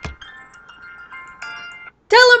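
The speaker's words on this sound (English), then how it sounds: "Oh, phone's ringing." Phone ringing in a Minecraft DragonCraft game: a steady electronic ring tone of sustained tones for about two seconds, then a louder burst of a second tone pattern near the end, with no voice over it.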